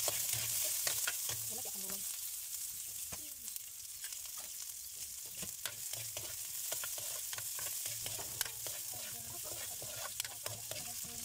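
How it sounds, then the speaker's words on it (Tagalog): Garlic, onion and ginger sauté in hot oil with a steady crackling sizzle, punctuated by frequent sharp stirring scrapes and clicks of a utensil against the pan, close and continuous. "Dala ni ko'y oil diri gipainit so maglunod na ta sa atong panakot."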